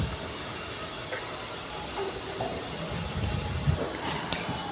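Chana dal and fenugreek seeds frying in oil on a low flame, a soft steady sizzle and hiss running evenly throughout, with a few faint clinks near the end.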